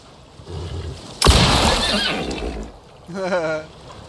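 A horse in a zoo management video game lets out a sharp crash-like burst followed by a wavering neigh that trails off, with a second whinny near the end.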